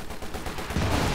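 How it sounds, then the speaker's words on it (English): Short burst of Bren light machine gun fire in the Company of Heroes 2 strategy game, coming from a church, a quick rattle of shots that grows louder toward the end. "That's a Bren gun firing from the church here."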